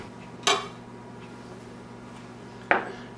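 Two sharp clinks as thinly sliced chili and other prepped ingredients are set into a small prep dish for ancho shrimp pasta, each a brief bright knock against a quiet kitchen background.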